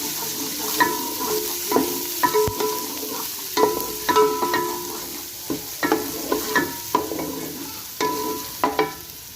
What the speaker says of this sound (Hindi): लहसुन अदरक का पेस्ट डाल देंगे, ऐसे भुनेंगे।